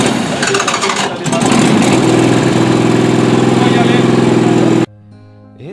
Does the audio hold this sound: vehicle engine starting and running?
yes